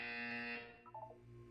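Loud sustained buzzer tone from the Portal 2 video game cutting off abruptly, followed by a brief chirpy electronic blip and a low hum.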